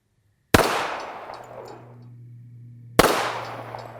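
Two loud, separate pistol shots from handloaded .45 ACP rounds fired at a steel target outdoors, each a sharp crack with a long decaying tail, spaced about two and a half seconds apart.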